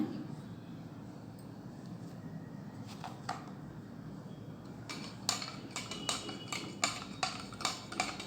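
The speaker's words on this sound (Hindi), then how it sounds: "Now I will stir it to mix it well." A spoon stirs a lemon in salt water, starting with faint scraping and then settling into a quick, rhythmic series of light clinks against the container over the last few seconds.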